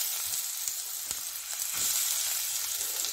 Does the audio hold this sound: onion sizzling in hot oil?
yes